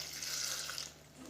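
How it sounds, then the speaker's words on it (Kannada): Water pours steadily into a mixer jar holding coconut, chillies, coriander and mint for a chicken green masala, a close, continuous splashing rush without pause. "ನೀರು ಪಾಡ್ದು ನಮ್ಮ ಗ್ರೈಂಡ್ ಮನ್ಪುಗ"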